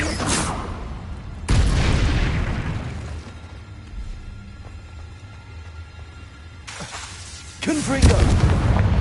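Two loud, booming blasts of the Confringo fire spell in Hogwarts Legacy, one early and one near the end, with a long rumbling decay between them and a spoken voice present.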